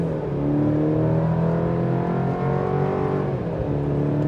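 A 2024 Chevy Colorado ZR2 truck accelerates hard on the gas, its engine note climbing in pitch through a sustained loud run, heard from inside the cab without talk.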